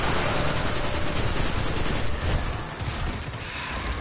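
Continuous heavy gunfire from a Destiny 2 firefight, a dense, loud, unbroken barrage of rapid shots with no talk over it.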